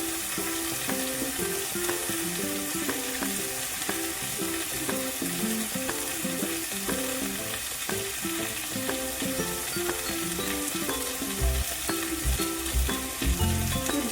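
Spiced fish head curry (muri ghonto) frying in a pan with turmeric, a steady close sizzle and bubbling with light rhythmic stirring scrapes throughout, no speech.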